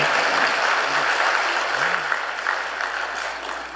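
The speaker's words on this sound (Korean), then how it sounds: "우리 박수 한번 쳐드립시다." A church congregation at a Sunday worship service gives a steady round of applause that fills the room at a moderate level and stays even throughout, with a few faint voices underneath.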